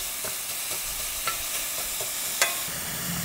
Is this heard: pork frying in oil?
yes